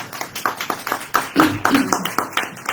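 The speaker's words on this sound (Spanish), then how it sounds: "Un aplauso para él, por favor." A short burst of clapping from a small audience at a book presentation, fairly close and moderately loud, lasting a couple of seconds.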